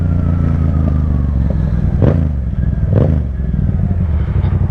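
A Yamaha FZ-07 motorcycle engine drones steadily while riding, a loud continuous hum with a couple of brief rises in pitch.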